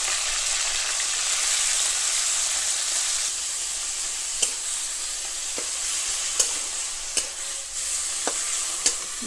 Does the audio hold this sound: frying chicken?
yes